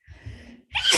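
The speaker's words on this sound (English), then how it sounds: "I feel like I'm gonna sneeze." A single human sneeze, close and loud: a short gasping intake of breath followed by a sharp, explosive burst, with no talk over it.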